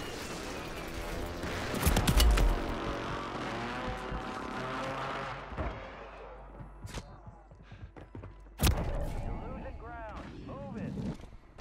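An incoming precision airstrike in the Call of Duty video game brings a loud burst of blasts and heavy impacts, followed by scattered sharp bangs and rumbling under game voice lines.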